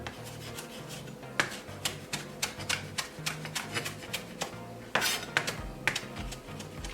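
A knife chops finely through fresh cilantro on a cutting board for cheesy potato patties, giving a quick, steady run of close, crisp taps with a few louder knocks along the way.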